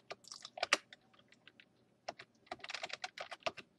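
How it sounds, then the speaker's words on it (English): Fingers tap out a name on a computer keyboard in two short bursts of crisp, close keystrokes with a brief pause between them. "I'm going to go ahead and type her name."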